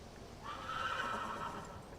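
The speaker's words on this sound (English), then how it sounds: "Now that we have our horse," A horse whinnies in the fantasy game Elder Scrolls Online, one drawn-out, fairly loud neigh that rises after a short lead-in and holds steady to the end, with no talking.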